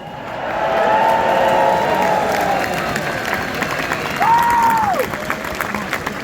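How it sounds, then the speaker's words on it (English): Large crowd at an outdoor farmers' rally applauding and cheering loudly, sustained dense clapping with scattered whistles and shouts rising and holding throughout. "let's give all of them a loud cheer"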